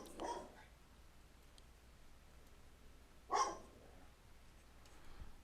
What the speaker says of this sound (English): But I'll just let them keep barking.